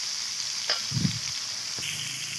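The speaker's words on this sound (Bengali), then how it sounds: "রান্না করছি এক হাতে এক হাতে খুন্তি নাড়ছি" Potatoes fry in oil in a pan while a spatula stirs them, a steady close sizzle with a couple of brief scraping strokes.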